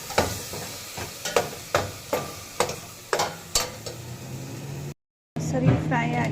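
Garlic frying in oil in a pan for a mushroom and mixed vegetable biryani, with a steady low sizzle broken by regular clinking stirs for about five seconds, then a brief gap and a louder, denser crackle.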